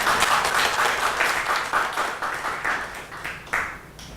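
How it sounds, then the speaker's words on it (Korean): Seminar audience at an open data forum on election data journalism claps for an incoming presenter, a dense, steady round of applause that tapers off toward the end with a few louder late claps. "여러분 박수 부탁드리겠습니다."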